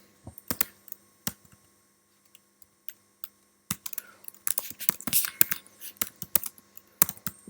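Typing on a computer keyboard to send commands to an Ultimate 64, with sparse isolated key clicks at first, then quicker, denser bursts of close, quiet tapping.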